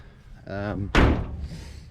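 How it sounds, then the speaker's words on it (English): A 1972 Chevrolet C10 pickup door shuts with one solid, heavy slam close by, just after a short stretch of speech. "Door's still shut like a old truck should."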